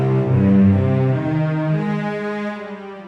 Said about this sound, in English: The cellos are like this.